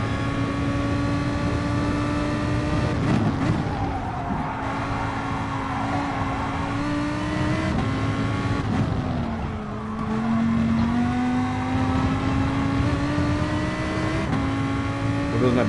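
Race car engine in a PS4 racing game, a steady droning note that rises and falls through gear changes and corner exits, continuous and fairly loud throughout.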